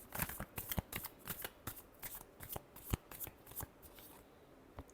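Tarot cards being shuffled by hand in a quiet room, a rapid series of crisp riffling and flicking bursts, close and fairly soft, continuing in an uneven rhythm throughout.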